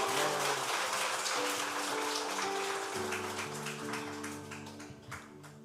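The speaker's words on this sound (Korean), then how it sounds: "네, 좀 더 큰 박수로" A church congregation applauds to welcome a member coming forward, with music playing over the clapping. The applause is loud at first and gradually tapers off.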